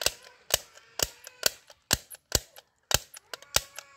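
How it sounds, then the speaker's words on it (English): A toy bullet gun fires a steady string of about nine sharp clicking shots, evenly spaced and close by, with no talk over them. "Wow, this is bullet gun."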